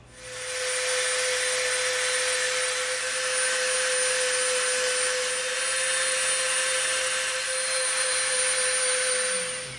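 A rotary power tool grinding and rounding off the front and back edges of an EVA foam graffiti gun prop, a loud, steady high whine that runs unbroken for nearly ten seconds with no talking.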